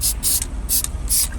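An aerosol can of SEM black texture coating sprays in short bursts, four sharp hissing pulses close by with brief pauses between, used for scratch repair on a GMC Acadia hatch.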